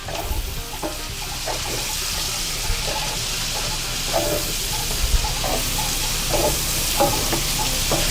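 Green onion sizzling in a hot pan for Cajun pasta, a steady loud frying hiss with scattered pops and spatters and occasional stirring scrapes, no talk.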